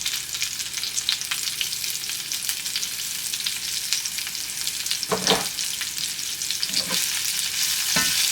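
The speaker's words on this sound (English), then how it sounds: "Now I'll just saute these, really fry them with these onions because that's what gives them such a good flavor" Steady loud sizzle of vegetables, potatoes among them, frying with onions in an Instant Pot on saute, a continuous crackling hiss broken by a few scraping stirs near the end.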